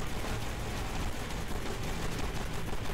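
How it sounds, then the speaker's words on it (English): Dense, continuous gunfire and explosions in the video game Kick Ass Commandos, a busy rattling barrage with no clear gaps, mixed with background game sound at moderate level. "Where are they shooting us from?"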